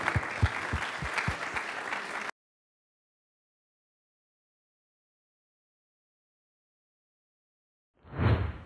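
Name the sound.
audience applause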